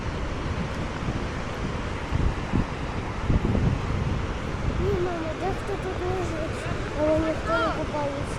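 Large ocean waves roll onto a beach in steady rushing surf, with gusty wind buffeting the microphone and voices talking over it.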